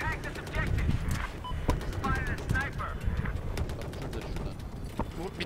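Scattered sharp gunshots from the video game Battlefield 4 crack out in irregular bursts, mixed under near-constant talking.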